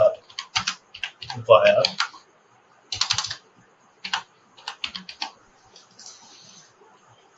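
Computer keys clatter in short rapid bursts of typing into an Excel spreadsheet, separated by brief pauses, close and fairly loud, with someone talking over the opening seconds.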